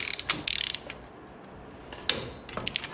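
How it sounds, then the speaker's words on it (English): A wrench ratchets on the ball joint nuts of an LS-swapped Jeep Wrangler, with bursts of quick, close clicking at the start and again near the end, a quieter pause between, and no talking. "we're gonna tighten our lower to 40 and our upper to 20 just to seat them both"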